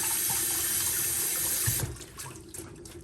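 Running tap water pours steadily into a sink as produce is rinsed underneath, a broad close hiss that thins out and turns patchier after nearly two seconds as the flow is interrupted.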